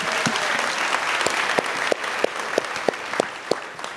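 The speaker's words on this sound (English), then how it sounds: "Let's all big round of applause that she can hear." Round of applause from an audience at a Ukraine fundraiser, steady crowd clapping with a few louder, evenly spaced claps standing out near the microphone.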